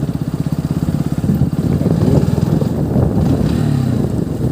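A loud motorcycle engine with a modified aftermarket exhaust idles and revs close by, its deep, rough, throaty exhaust pulsing steadily throughout.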